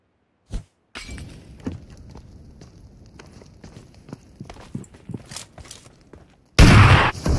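A gas can exploding in the PUBG Mobile video game: a stretch of soft shuffling footsteps and small clatters, then a sudden loud, crackling blast that fills the last second.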